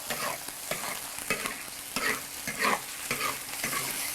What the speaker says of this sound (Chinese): 先把肉放到里面爆一下